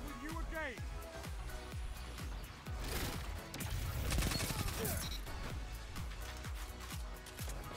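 Submachine gun fire in Destiny 2 Lightfall: rapid, closely spaced shots in repeated bursts, mixed with crashing hits and whooshing game effects. A voice talks over the shooting.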